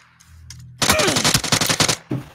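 Automatic gunfire in the video game PUBG rings out as a rapid, loud burst of about a dozen shots lasting just over a second, followed by one more shot.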